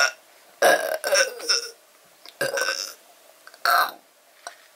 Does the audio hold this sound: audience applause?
no